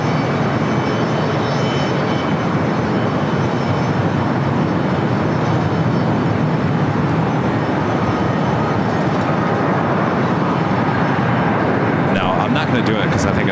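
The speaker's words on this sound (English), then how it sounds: "the United Dreamliner. We'll be rolling down 25 right." United Boeing Dreamliner jet taxiing at LAX: a loud, continuous broadband engine roar and whine that stays steady throughout, with a faint higher tone near the end.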